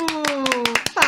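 Hands clap in a quick, even rhythm right after an unaccompanied song, with a sustained voice tone underneath. The claps are close and loud and end in a brighter burst.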